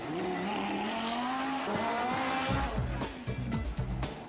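Loud sports car engines, including a Nissan GT-R, roar and rev, then tires squeal and skid in sharp repeated bursts, continuous and close.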